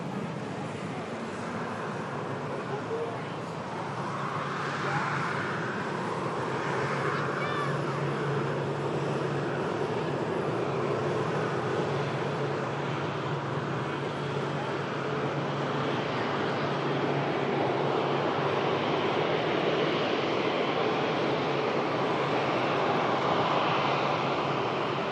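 An Airbus A350 airliner rolls out after touchdown, its engines giving a steady, broad roar at a moderate distance that holds and swells slightly throughout.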